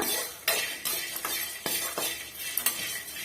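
Garlic and curry leaves for a bitter gourd curry are sautéed in a pan: repeated scraping stirs and metallic clinks of a spoon over a light sizzle, close by.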